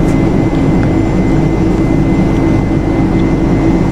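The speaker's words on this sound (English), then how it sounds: "That noise you heard at first was just us rolling along the runway." A Boeing 747 in Flight Simulator X rolls along the runway at Heathrow, giving a loud, steady low rumble and engine drone that holds unbroken throughout with no talk.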